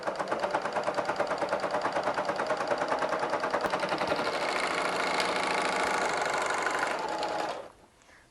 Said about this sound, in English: as you stitch on your overlock machines, you don't want to pull the fabric through. Just let the machine feed it for you